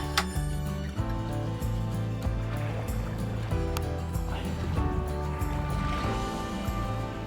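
A sailing yacht's inboard engine runs at a steady idle, giving a continuous low mechanical hum with an even rhythm, close by, with water sloshing faintly around the hull.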